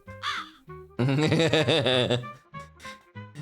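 A human voice imitates a crow's caw several times, giving harsh nasal 'caw' calls with a longer drawn-out rasping one in the middle, close and fairly loud.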